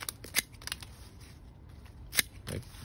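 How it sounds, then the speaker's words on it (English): A Tobisho SR-1 hand pruner chops through bunches of branches, giving a few crisp, close snips separated by short pauses. "we're just taking bunches of branches like this and chopping them up"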